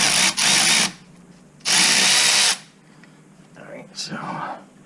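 A power drill working a brake caliper bolt off a Corvette C5 whirs in two loud bursts of about a second each, followed by quieter tool handling and soft, low talk nearby.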